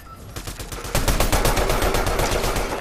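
Rapid bursts of gunfire in Fortnite, a steady rattling volley that swells louder about a second in and keeps hammering without talk.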